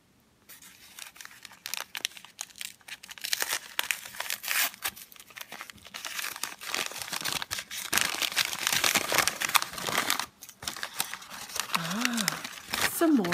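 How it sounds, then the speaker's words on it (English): Gift wrap is torn and crinkled open from a Dora backpack at close range, a busy run of rustling, crumpling and ripping paper with a short voice near the end. "Yes, another little gift to unwrap."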